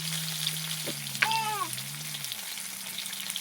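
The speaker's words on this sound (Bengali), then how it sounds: "ওই তেলে আমি মাছের তেলে দিয়ে দেবো আলু কটা ভেজে নেব।" Potatoes frying in fish oil in a home kitchen pan give a steady, soft sizzle throughout, with a brief higher whine passing over it near the middle.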